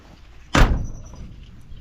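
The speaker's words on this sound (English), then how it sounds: "Door shuts easy" The cab door of an old farm pickup truck swings shut with a single solid, close thunk that rings briefly and fades, alone in quiet surroundings.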